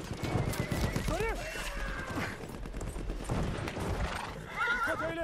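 Video game horse neighing in repeated whinnies over galloping clip-clop hooves, with gunfire scattered in the mix and someone talking over it.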